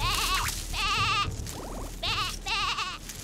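A cartoon lamb caught in a bush bleats in four quavering, wobbly cries, separated by short pauses, loud and close, with no other sounds between them.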